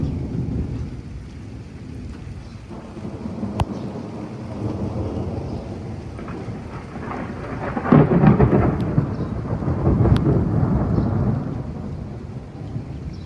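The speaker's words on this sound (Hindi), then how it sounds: "देखा कितनी ज़ोर से आवाज़ आ रही है ना बादलों की, बिजली भी चमक रही है, बादल भी गरज रहे हैं बहुत तेज़" Thunder rumbles through steady heavy rain during a rainstorm in Karachi, with loud rolling peaks building around the middle and again toward the end, and no voices.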